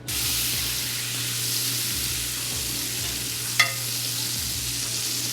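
Butter browning in a pan sizzles with a loud, steady bright hiss, a low background hum beneath it and one brief clink partway through, with no talking.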